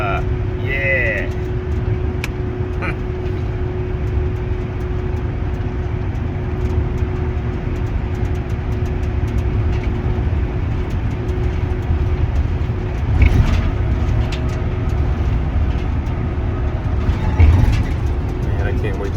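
Inside a car with a weak heater and rough-shifting transmission on a drive to work: a steady low engine and road rumble with a constant hum, a few brief knocks and bumps near the end.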